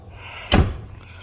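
A car door on an American luxury car slams shut once, a single solid thud with no other sound around it.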